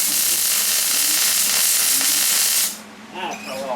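Shielding gas hisses loudly and steadily from a welder after its gas valve is reopened, then cuts off abruptly after about three seconds, followed by a brief voice.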